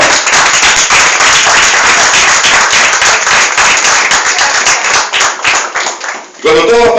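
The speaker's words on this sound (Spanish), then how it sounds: "¡Un aplauso al Señor!" A church congregation at an evangelical service claps loudly and steadily in dense, sustained applause mixed with voices and scattered cheers, cutting off abruptly near the end as a voice begins to speak.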